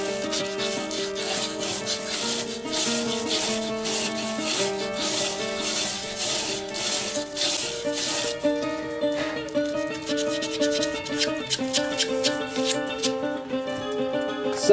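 Rapid back-and-forth hand sanding on a eucalyptus wood box, a rhythmic scratchy rubbing close up, continuing steadily over faint background music.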